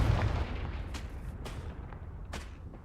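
A Confringo explosive spell blast from Hogwarts Legacy: a dense, rumbling burst of broadband noise with a few sharp cracks riding on top, fairly loud throughout and with no talking.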